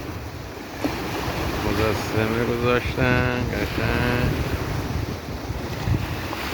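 Waves at high tide wash onto Kish Island beach with steady surf and wind buffeting the microphone, while someone talks over them.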